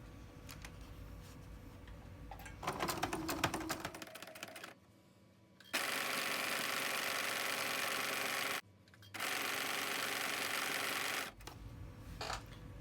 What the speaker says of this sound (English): I hold my threads out of the way when I start sewing, drop my needle back down, and off we go.